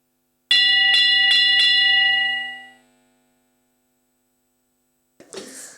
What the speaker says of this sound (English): All right, so the bell sounds.